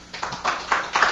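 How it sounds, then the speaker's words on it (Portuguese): Applause after a technical talk on Linux kernel virtual memory, heard as a few sparse, soft claps in short bursts, faint and brief in a quiet room. "eu vou pedir aqui uma salva de palmas."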